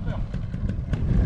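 A motorcycle engine with its idle just reset and air screw adjusted, running steadily at a low rumble for a brief stretch, with people talking over it.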